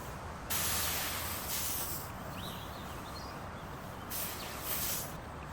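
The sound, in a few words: HVLP sprayer spraying finish on coffee table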